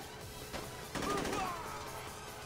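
Gunfire erupts in the Saints Row video game, a short burst of rapid shots following a single earlier crack, mid-loud against a constant game background.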